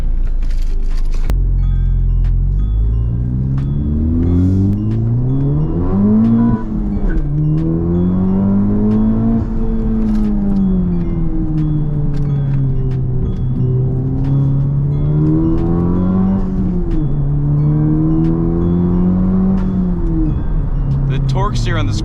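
A modified Honda Civic FL5 Type R, boosted, accelerates hard on the road with traction control fully off, its engine note rising and falling through several revving pulls over a constant road rumble.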